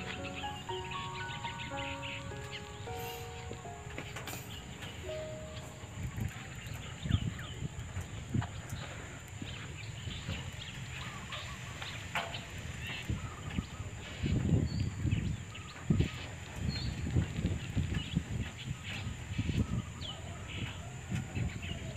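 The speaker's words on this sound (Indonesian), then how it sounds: "Suara burung-burung banyak ini" Several birds chirp and call in the distance over a soft Kalimantan forest ambience, with occasional louder rustling bursts.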